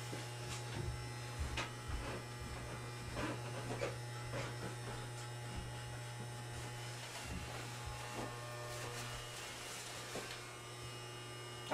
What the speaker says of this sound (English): I'm going to simply change the angle of the clipper.